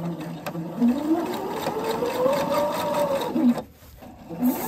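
A sewing machine runs steadily, stitching an elastic waistband on children's trousers, with a smooth motor whir that rises in pitch and then stops with a brief pause near the end.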